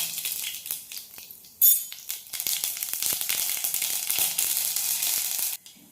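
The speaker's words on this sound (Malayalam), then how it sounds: "കടുക് പൊട്ടി വന്നത് ഉടനെ തന്നെ ഗ്യാസ് സിമ്മിൽ വയ്ക്കുക." Mustard seeds pop and splutter in hot coconut oil in a pan on a gas stove, a dense crackle of sharp sizzling bursts that rises and falls steadily, with one loud snap near the middle and no talking.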